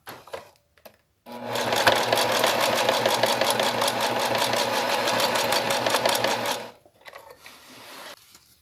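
A domestic sewing machine stitches the lining of a double zipper pencil case in one continuous, loud, rapid run of about five seconds, with short pauses and quiet handling before and after.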